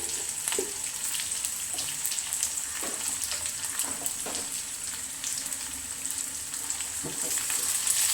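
Mustard seeds, onion and chili frying in hot oil for lemon pickle, a continuous close hiss of sizzling with scattered crackles and pops throughout.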